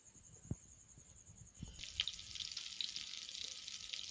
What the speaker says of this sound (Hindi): सबसे पहले हम शामी टिक्कियाँ अंडा लगाकर फ्राई कर लेंगे